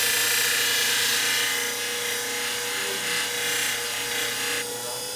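Bonika convex edge shear being sharpened, a steady close grinding hiss with a faint whine, continuous and fairly loud, with no voices.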